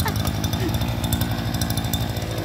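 A petrol-engined hole-digging auger for planting runs at a steady, buzzing drone, close and loud throughout, with a voice faintly present under the engine.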